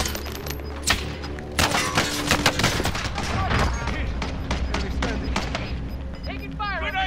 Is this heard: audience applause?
no